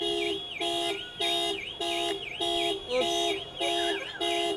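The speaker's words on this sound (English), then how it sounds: "What the alarm sounds like." Alarm on a locked 2022 Ford Ranger Wildtrak, sounding in steady repeated pulsing bursts, about eight blasts of a warbling electronic tone, moderately loud and clear with no talk.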